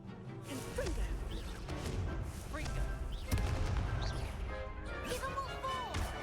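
Confringo explosive spell blasts in the wizarding game Hogwarts Legacy, several sharp cracking impacts and bursts amid swooshing spell effects and a busy battle din, with voices in the mix.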